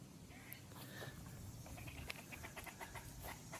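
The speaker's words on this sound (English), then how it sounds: "Did you guys hear that bird?" A bird calls in short repeated chirps against an outdoor background, with faint noise and a few brief sharper notes.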